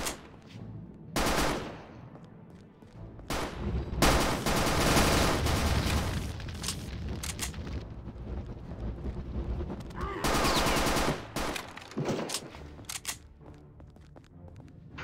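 Machine-gun fire in the PC shooter RealRTCW, with repeated loud bursts of rapid automatic shots and echoing gunfire across the whole stretch, dense and close, mixed with other combat noise.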